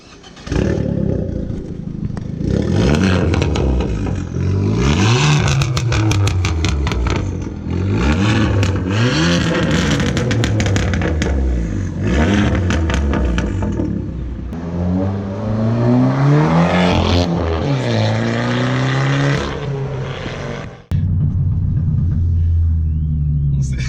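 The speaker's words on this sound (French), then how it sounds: "l'échappement Ragaz Zone complet qu'on a décatalysé, 63 mm de largeur au lieu de 57" An Abarth 500 Stage 2 with a full decatted Ragazzon exhaust, 63 mm wide with outlets over 100 mm, rumbles loudly on the road, revving up and down through repeated gear pulls with deep, resonant exhaust drone.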